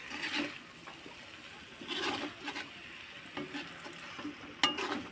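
Pasta is stirred and mixed in a pan for a spicy Maggi pasta dish. Soft, uneven scraping and wet shuffling come in short bursts over a faint sizzle, quiet and close, with no voices.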